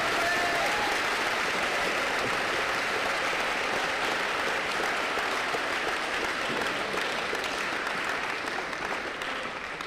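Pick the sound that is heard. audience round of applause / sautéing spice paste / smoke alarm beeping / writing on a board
audience round of applause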